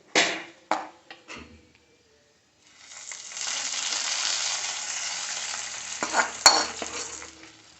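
Hot tempering of fried onions and curry leaves poured into a coconut milk fish curry, giving a loud, close sizzle that swells and holds for several seconds, with a few utensil clinks and knocks before and near the end.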